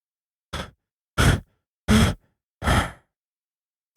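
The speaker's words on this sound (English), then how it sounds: "Beautiful breathing." Four loud, heavy breaths, each a deep exhale of about half a second, spaced evenly with short silences between; no talking.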